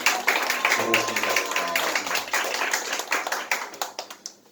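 A church congregation claps together to welcome a visiting guest, a burst of many hands applauding close by with scattered taps, mixed with a voice speaking over it.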